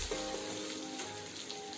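Onions frying with ginger garlic paste for chicken liver fry, a faint steady sizzle with light crackles, brief and continuous.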